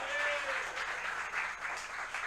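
Church congregation at an evening revival service applauding, a dense, steady wash of clapping from many hands across a large room, with a brief voice at the start.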